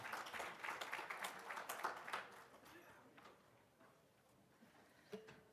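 An audience at a university talk on counseling for collegiate student athletes applauds with a moderate patter of clapping from a modest crowd. The applause fades after a couple of seconds into quieter room sound.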